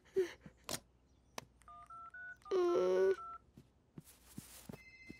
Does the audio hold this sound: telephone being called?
yes